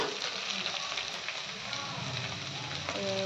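Carrots and pumpkin are stir-fried in a hot pan, giving a steady close sizzle and crackle with a few stirring scrapes.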